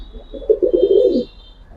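A pigeon gives a single soft, throaty rolling coo lasting under a second among a loft collection of military-type and fancy pigeons, close and clear, with faint background hiss and no talking.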